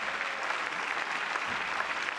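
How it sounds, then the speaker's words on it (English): Steady audience applause at a professional tennis match presentation ceremony, a dense wash of clapping that stays even and fairly soft throughout, as if heard from within a large crowd. "Can we give another round of applause to our wonderful presentation team?"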